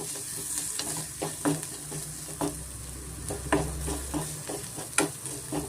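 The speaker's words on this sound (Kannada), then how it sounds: "ಕರಿಬೇವು ಸೇರಿಸ್ಕೊತಾ ಇದ್ದೀನಿ ಅದನ್ನು ಸ್ವಲ್ಪ ಚೆನ್ನಾಗಿ ನಾವು ಎಣ್ಣೆಯಲ್ಲಿ ಬಾಡಿಸ್ಕೊಂಡು ಫ್ರೈ ಮಾಡಿಕೊಂಡ್ರೆ ಚೆನ್ನಾಗಿರುತ್ತೆ" Curry leaves frying in hot oil with ginger-garlic paste for a raw peanut curry side dish, a steady sizzle broken by repeated spoon scrapes and stirring knocks against the pan.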